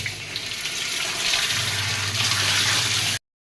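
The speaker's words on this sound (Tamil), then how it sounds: "தண்ணி வந்து நல்லாவே ப்ரெஷராக வருது." Water gushes steadily under strong pressure from a newly fitted tap, a continuous close hiss and splash that swells slightly halfway through and then stops abruptly.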